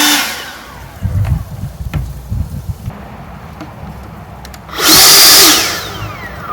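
An EGO leaf blower running a cheap BLDC controller spins up on turbo with a soft start. Low rumbling and clunks come first, then a loud rising whoosh that holds briefly and fades.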